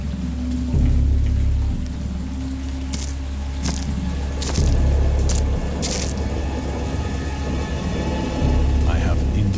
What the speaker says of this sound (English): I know that I heard pearls of thunder and other tones which nature utters only in her wildest moods.